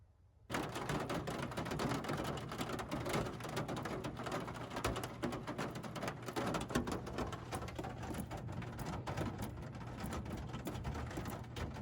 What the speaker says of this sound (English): So it's raining pretty bad here.